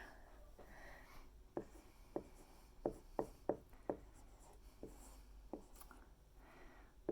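A pen scratches out chemistry calculations on paper at close range, with short quiet strokes and a run of sharper taps mid-clip in a quiet room.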